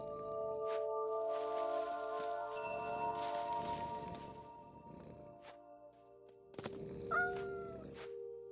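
A cat in the game What Remains of Edith Finch gives several meows over quiet, tonal background music, with a sharper cry and chime-like sounds near the end.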